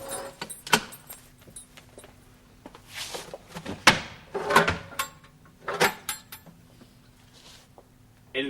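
A set of keys jangles in scattered metallic bursts during a police search of a building, interspersed with clunks and knocks, moderately close and fairly quiet with no speech.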